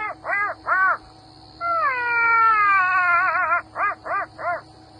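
A person imitates a black-backed jackal call: three short yelps, a long wavering howl that slides downward, then three more short yelps, clear and fairly loud over a steady low hum.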